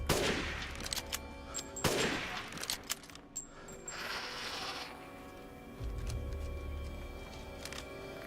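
Sniper rifle shots in Resident Evil Village: two sharp, loud cracks close together near the start, followed by metallic clicking and ratcheting from the weapon mechanism and a low hum.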